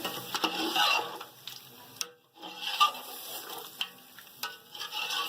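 Chicken is mixed with yogurt and spices in a pot for white chicken biryani, giving a continuous wet stirring and scraping with a light sizzle, fairly close. The sound breaks off briefly midway, then resumes with a few clinks of the spoon.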